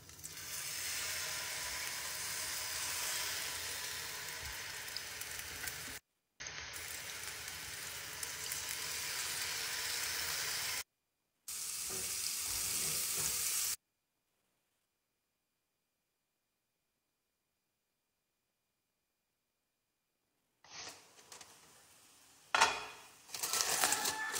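Marinated kingfish fries in olive oil with a loud, continuous crackling sizzle, broken by abrupt cuts and a long silence before the sizzling returns with a few sharp clinks.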